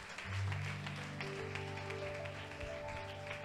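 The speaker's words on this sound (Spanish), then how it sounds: "Dale un fuerte aplauso a nuestro Señor." Applause fills a church service, dense and steady throughout, with sustained musical tones ringing beneath it.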